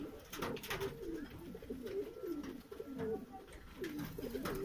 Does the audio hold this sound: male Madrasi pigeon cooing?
yes